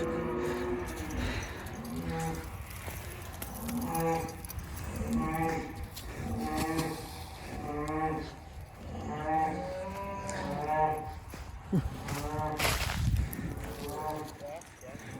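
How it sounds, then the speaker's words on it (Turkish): Cattle moo repeatedly in long, low calls, several animals close by, with hoof clatter and some shuffling noise around them. "Şimdi diğer inekler de bağırıyor bunları çıkardık diye."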